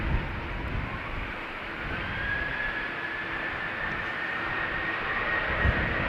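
A Smartwings Boeing 737 spools up and takes off from runway 36L at Amsterdam Schiphol, a steady, fairly distant jet roar with a faint rising whine that holds throughout.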